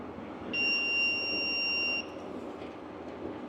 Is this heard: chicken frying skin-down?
no